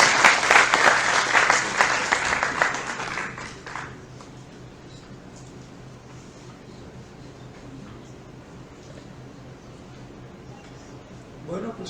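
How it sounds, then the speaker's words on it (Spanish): An audience applauds to welcome a lecturer at a talk on brain and sleep evolution, a burst of clapping lasting about four seconds before fading into a quiet room. "Démosle un aplauso y una bienvenida"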